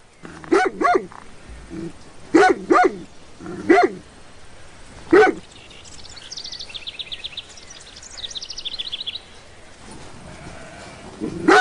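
A sheepdog guarding a flock barks at hikers: loud, sharp barks in pairs and singles through the first half, then quieter high whimpering or whining sounds, with faint outdoor background.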